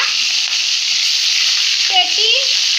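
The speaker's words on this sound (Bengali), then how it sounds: "পাঁচ মিনিট ভাজতে হবে ভাজা হয়ে গেছে আরেকটা দিচ্ছে" Pieces of katla fish fry in hot oil in a pan, giving a loud, continuous close sizzle with a faint tonal squeak near the end.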